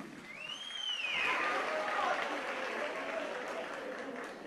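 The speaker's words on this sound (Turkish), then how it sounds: "yarışmacılarımıza bir alkış daha alayım" Applause from the audience for contestants at a school folk song competition, a broad sustained wash of clapping swelling and then easing, with a whistled or sung pitched tone sweeping over it.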